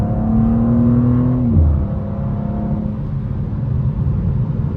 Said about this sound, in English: Oh, there's someone driving fast up there.